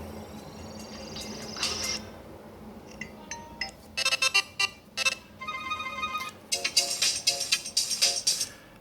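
A phone ringtone plays through a Moto G7 phone's small speaker: bright, chiming electronic notes in quick clusters, moderately loud, with no talking.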